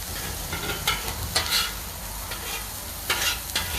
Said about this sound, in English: the vegetables are going to take a little bit longer to cook